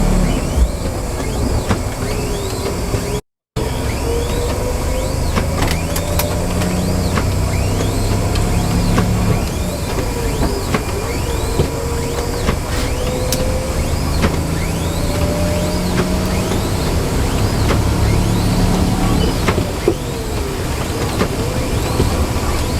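A car drives on icy roads with double-clutch gear shifts, its engine rising and falling in pitch across several shifts under steady road and cabin noise, with one brief dropout early on.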